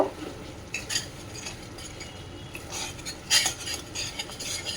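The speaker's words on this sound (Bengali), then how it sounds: "এটাকে একটু ভালো করে এই যে নাড়াচাড়া করে নেব" Spiced masala frying in oil in a pan for paneer bhurji, stirred with a utensil: soft sizzling under intermittent scraping and clinking strokes, a sharper clatter near the end, close up with no talking.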